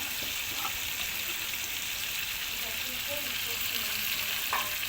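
Chicken pieces, already lightly browned, fry and sizzle steadily in a pan as garlic and ginger paste goes in, a dense continuous hiss with faint stirring clicks throughout and no talk.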